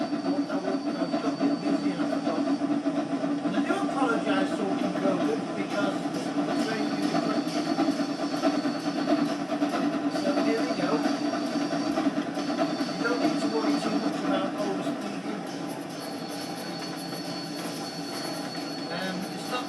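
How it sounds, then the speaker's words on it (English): The Flying Scotsman steam locomotive runs between Penzance and St Austell, a steady, dense rumble of wheels and rail noise with faint squeals, continuous throughout. "The world famous Flying Scotsman."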